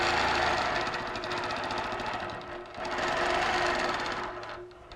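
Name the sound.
sewing machine stitching a quilt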